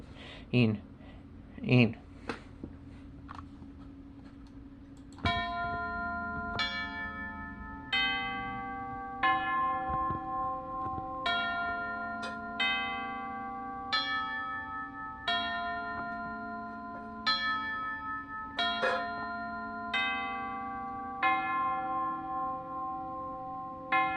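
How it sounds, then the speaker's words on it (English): Harp glissandos from a Roland JV-1080 synthesizer with the SR-JV80-16 expansion board, sweeping, shimmering runs that repeat roughly every two seconds, played alone after a few brief clicks at the start. "These are some beautiful harp glissandos I created using an expansion board for the Roland JV1080."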